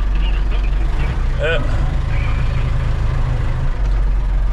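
A digger engine runs steadily in a yard, a loud low rumble throughout with a brief squeal and clank partway through, and voices talk over it.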